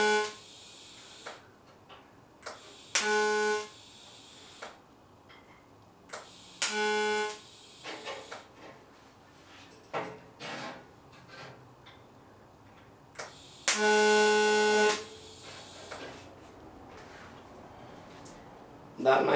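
Short bursts of an arc welder tacking metal on a home art project, several brief buzzing tacks separated by quiet gaps, one longer run near the middle, with faint handling noise between.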